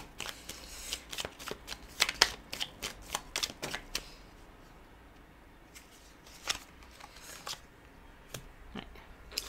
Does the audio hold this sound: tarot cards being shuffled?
yes